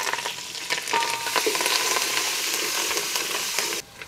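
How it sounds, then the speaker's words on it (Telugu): Onions, green chilies and curry leaves fry in a pan of oil for a village-style egg curry, giving a steady, close, fairly loud sizzle with scattered crackles that stops abruptly near the end, with no voices. "ఇప్పుడు మనం ఉల్లిగడ్డ కోసి పెట్టుకుని వేసుకోవాలి."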